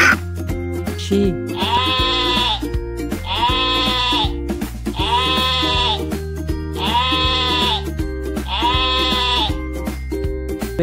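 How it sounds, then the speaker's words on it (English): Five loud, evenly spaced sheep bleats over a steady background of synthetic musical tones. "Sheep."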